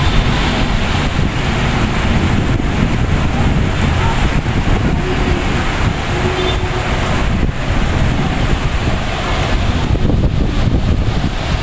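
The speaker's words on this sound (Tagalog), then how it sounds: "napakalakas na ulan." Heavy afternoon rain pours down in a steady, loud, dense wash of noise that runs without a break, with no voices over it.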